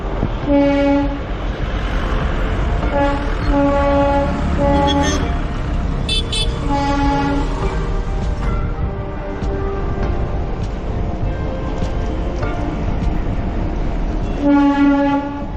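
The Darjeeling Himalayan Railway narrow-gauge toy train rumbles steadily along at night while its horn gives several short, high toots in bursts, with a longer run of honks near the end.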